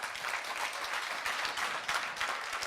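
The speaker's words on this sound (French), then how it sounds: "que je vous demande d'applaudir" An audience applauds Alain Berthier on a French talk show, a steady, even wash of many hands clapping at moderate distance for a few seconds, without voices over it.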